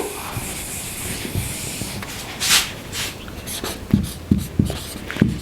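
Chalk or marker scratching on a board during an English grammar lesson, a series of short rubbing and tapping strokes in irregular rhythm, close and fairly quiet, with no talking.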